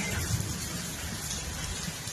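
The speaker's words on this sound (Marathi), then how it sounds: "गारा पडते ते गारा" Hail falls with heavy rain in Haryana, a loud, continuous wash of drumming impacts with a low rumble underneath.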